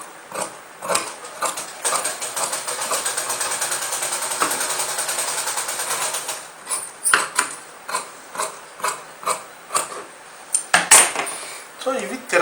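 Fabric pieces for leggings being cut with scissors, a steady run of crisp snipping and rustling followed by a series of separate, sharper cuts, close and fairly loud with no voices.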